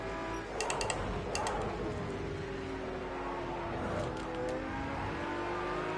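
Aston Martin race car at Donington in a racing game: a sustained engine drone with shifting pitch as it revs through gears, accompanied by brief high clicking ticks, steady and loud throughout.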